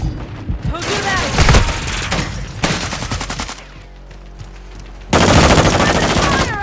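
Rapid automatic gunfire bursts from a Call of Duty match, loud and close, broken by a brief lull before another heavy volley erupts.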